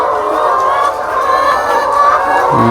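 Many chickens on an egg farm in Ban Na Nath, Laos, clucking and calling together in a dense, continuous flock chatter, close and fairly loud.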